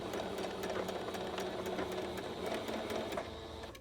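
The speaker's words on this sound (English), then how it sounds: "So as you approach the end of your fabric, just make sure that you do a back stitch at the end." A sewing machine stitches steadily through fabric near the end of a seam, a fast even mechanical rattle with regular needle clicks, close and alone.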